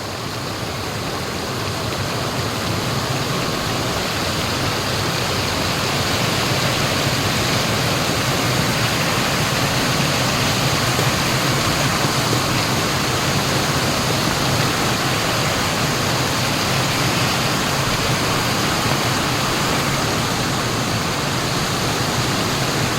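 Loud, steady rush of a swollen river with big waves churning, a dense continuous roar filling the whole stretch with no voices over it.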